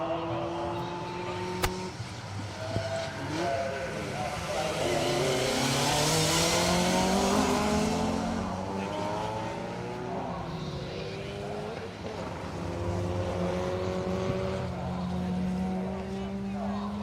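A Chevette rally car on very bald tyres slides across a slippery stage at Snetterton, its engine droning loudly with rising and falling revs as it drifts past, with a sharp click early on and a voice talking over it.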